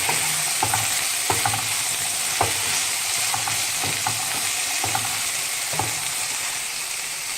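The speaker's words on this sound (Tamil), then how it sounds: "கோவக்காவை நல்லா வதக்கி விடுங்க." Tindora (ivy gourd) stir-fries in hot oil with a dense, continuous sizzle. Regular scrapes and clinks from a spatula stirring the pan break through it, close and loud, with no voices.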